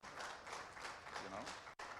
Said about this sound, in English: Sisters and brothers, another round of applause for Dr. Daniels, even as he walks away.